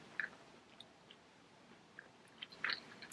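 A Scottish Fold cat eats its food, making faint, soft crunchy chewing and biting clicks scattered through a quiet room, with a slightly louder cluster of crunches near the end.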